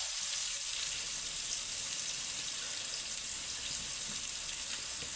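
Ginger sizzles steadily in hot oil in a pan as the base for chicken tinola, giving a continuous, even frying hiss with no talk over it.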